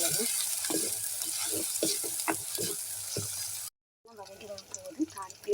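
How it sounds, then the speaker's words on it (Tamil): Onions and green chillies sauté in a pan, with a steady close sizzle broken by repeated scraping stirs, then a brief cut before quieter frying continues; a voice speaks over it. "வெங்காயம், பச்சை மிளகாய் போட்டு நல்லா வதக்கணும்."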